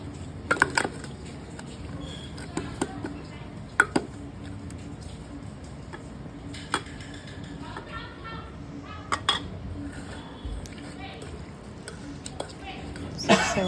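Fish marinade being mixed with fresh lemon juice in a bowl, heard as soft sporadic clinks and stirring scrapes, close and low in level, with a few scattered louder taps.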